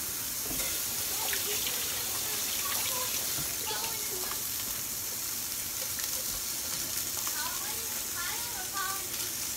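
Hot sausage meat sizzling in a chili pot alongside browned beef and short rib, a steady, close, broadband frying hiss throughout with small crackles and pops, under occasional speech.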